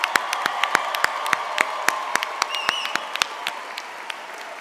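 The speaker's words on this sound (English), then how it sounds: "Please join me in a round of applause." At a 2016 undergraduate commencement ceremony for American Public University System, a crowd applauds with crisp, individual claps standing out over a hollow, roomy hall tone, steady for several seconds and gradually thinning.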